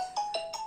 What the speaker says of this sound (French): Excusez-moi pour le téléphone.